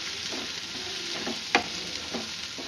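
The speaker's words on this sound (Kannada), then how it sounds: "ಸಣ್ಣದಾಗಿ ಸಣ್ಣದಾಗಿ ಹಚ್ಕೊಂಡು ಈ ರೀತಿಯಾಗಿ ಫ್ರೈ ಮಾಡ್ತೀವಿ" Finely chopped onions frying in a pan, a continuous close hiss of sizzling oil broken by a few scraping stirs and one sharp clack, no talking.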